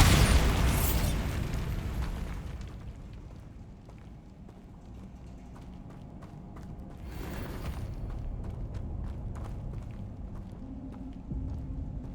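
Bombarda spell exploding in Hogwarts Legacy, a loud burst at the start followed by creaking, rumbling debris and a second crackling impact midway, then lingering mechanical clatter.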